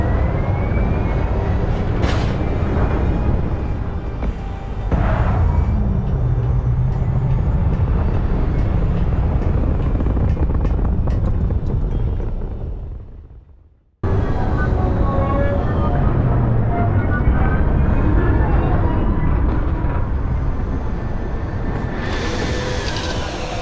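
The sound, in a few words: spaceship thrusters firing in the video game Starfield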